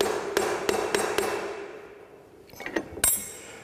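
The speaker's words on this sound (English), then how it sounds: "I'll use my soft hammer to hit down on my workpiece to ensure it sits nice and flat." Soft hammer tapping a metal workpiece down flat in a machine vise: several sharp, close knocks in a quick run, a short pause, then a few more taps, the last one ringing brighter.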